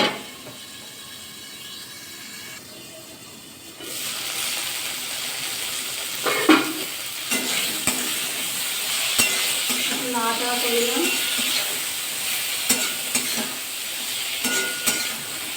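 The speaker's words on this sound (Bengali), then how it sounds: "আমি লবণ দিয়ে ভেন্ডিটা একটু ভাজা ভাজা করে নেবো" Okra sizzles in hot oil with salt, a steady frying hiss interrupted by scraping stirs and occasional clinks of a spoon against the pan, close and moderately loud, with no talking.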